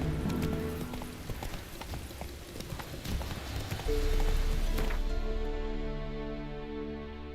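Roach the horse galloping in The Witcher 3, steady rhythmic hoofbeats close by, with faint ambient game sound and a soft musical tone swelling toward the end as the hooves fade.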